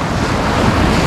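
Sea waves surging at a beach in Mahmutlar, Alanya, Turkey, a loud, steady broadband wash of surf mixed with heavy wind buffeting the microphone, with no voices over the roar.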